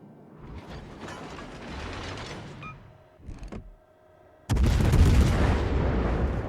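A Hindenburg German cruiser fires shells in World of Warships. Mechanical creaks and rumbling turret sounds come first, then a loud, close salvo erupts that sustains a heavy roar to the end.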